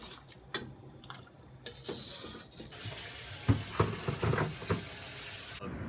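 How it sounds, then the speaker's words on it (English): Rinsed rice goes into a pot of boiling water: wet splashes and clattering taps first, then a hissing, bubbling rush with a few sharper plops, close by and fairly quiet, without any talk. "the rice, which we have currently rinsed and are now putting into the boiling water"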